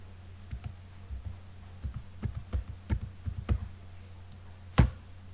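Computer keyboard typing a file name in CATIA V5 software, a burst of about a dozen light close key clicks in an uneven rhythm, ending with one louder keystroke, with no talk.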